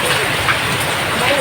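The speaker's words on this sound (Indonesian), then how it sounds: "Hujan soalnya." Steady rain pours outside during a home cooking session, a dense, even hiss filling the whole moment, with faint voices murmuring underneath.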